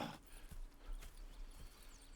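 Horse hooves clip-clop at a steady walking pace in Red Dead Redemption 2, soft and fairly distant under a quiet outdoor game ambience, with no talk.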